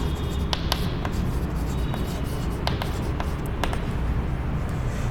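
Chalk or marker strokes on a board while working through a body-centred cubic structure geometry problem, a steady scratchy rubbing with several short sharp taps and clicks spaced irregularly.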